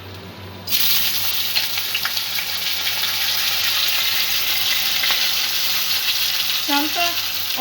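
Washed, drained rice hits a little hot oil and keeps frying with a loud, steady sizzle, joined by scraping stir strokes near the end; no one talks, and it is a prawn pulao in the making.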